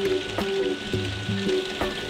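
Rain falling outside a house, heard from indoors as a steady, soft patter with occasional louder drops, continuous and moderately close.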